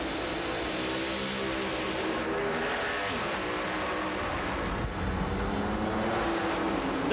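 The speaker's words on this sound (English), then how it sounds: "That's a pretty good drag race." Drag racing cars roaring down the strip at the Gator Nationals, a loud sustained engine drone with shifting pitch heard from a distance, continuous for several seconds with no talk.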